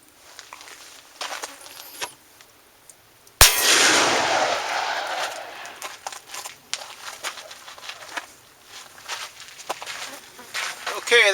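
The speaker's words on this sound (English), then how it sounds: "Last shot on this 3/16 of an inch metal plate will be the Buffalo Bore 270 grain jacketed flat nose" A single loud gunshot from a Buffalo Bore 270 grain jacketed flat nose round striking a 3/16 inch steel plate, a sharp crack followed by a long decaying outdoor echo, with faint rustling and noise before and after.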